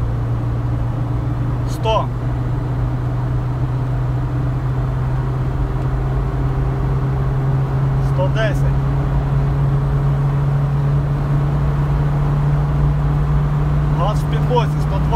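A car with a newly installed electric fuel pump accelerates hard at full throttle, its engine drone holding steady and loud throughout, with someone speaking briefly now and then over it.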